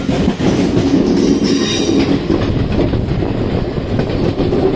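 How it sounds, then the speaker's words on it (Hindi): The Ranikhet Express runs steadily around a curve on Indian railway track, its wheels rumbling loudly with clickety-clack beats and faint squealing, continuous and close. "और ट्रेन कर्व पर है, इधर आएगा बढ़िया कर्व।"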